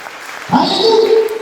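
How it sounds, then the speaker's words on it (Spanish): Church congregation applauding during a sermon, clapping under a loud voice calling out over it for most of the stretch. "Denle un aplauso a Dios y a su amiga."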